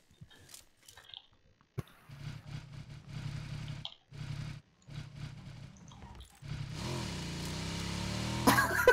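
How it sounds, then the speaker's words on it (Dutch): Motorcycle engine in the PUBG video game, a low droning hum that cuts in and out in short bursts, then settles into a steady louder drone with rising whine toward the end. "Dat is wel mijn motor"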